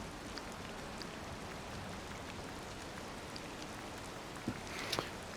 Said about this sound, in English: seems ironic that it's raining actually on here